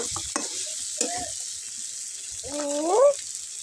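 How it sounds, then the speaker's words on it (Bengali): A spatula scrapes and stirs tomatoes in a frying pan with a soft sizzle underneath, giving a few scattered scrapes and clicks, and a squeaky sliding stroke toward the end. "দিয়ে দিলাম টমেটো দেওয়ার পরে এই যে খুন্তি দিয়ে নেড়ে চড়ে আমি 2 মিনিট জন্য ঢেকে রাখবো"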